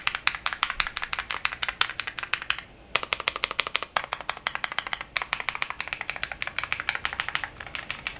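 Steady, rapid typing on a VTER Galaxy80 aluminum mechanical keyboard, with dense, crisp, close-up keystrokes and only brief pauses.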